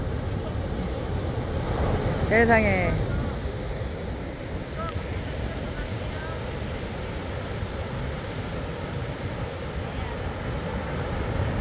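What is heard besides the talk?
sea waves at the East Sea coast, Gangneung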